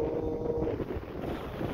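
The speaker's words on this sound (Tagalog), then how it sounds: "malakas yung hangin" Strong wind buffets the microphone with a rough, continuous rumble, steady and close throughout, outdoors by the sea with stormy weather.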